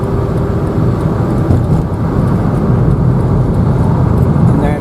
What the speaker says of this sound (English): obviously now you're getting used to vehicles coming down here as well just now